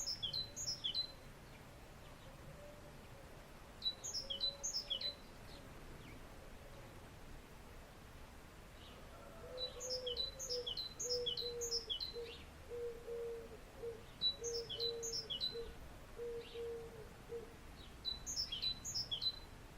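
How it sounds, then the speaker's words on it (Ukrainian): A tit sings outdoors in repeated short bursts of high, bright chirps spaced every few seconds, faint and a little distant over quiet background hiss, with a low soft call in the middle. "синичка."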